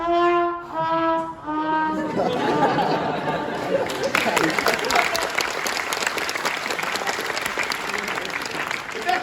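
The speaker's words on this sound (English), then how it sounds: "Biggest round of applause I get" Stand-up comedy audience at a university mechanical engineering night breaks into sustained applause after a joke's punchline, loud and dense clapping filling the room, with a voice speaking over the start and crowd chatter mixed in.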